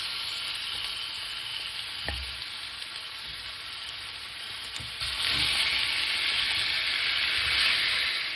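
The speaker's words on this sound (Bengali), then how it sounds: "তেলটা কিছুটা গরম হয়ে আসলে তার মধ্যে চিকেনগুলো দিয়ে দিচ্ছি।" Chicken pieces, cut small, sizzle in about two tablespoons of hot cooking oil in a frying pan. A steady close frying hiss runs throughout, with a soft thump where pieces drop in, and it swells louder partway through.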